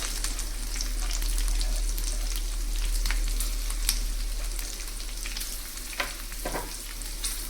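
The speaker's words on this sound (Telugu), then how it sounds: "వీటిని బాగా వేయించుకొని ఆనియన్స్ యాడ్ చేసుకుందాం." Cluster beans frying with green chillies in a pan, a loud, even sizzle with scattered crackles and a few soft stirring scrapes, steady throughout without any speech.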